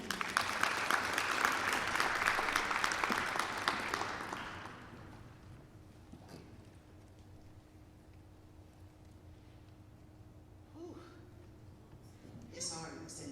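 Applause at a school graduation ceremony for grades 6 to 12, with a dense burst of clapping from a seated audience that fades out after about four seconds, leaving quiet room tone and a few faint sounds.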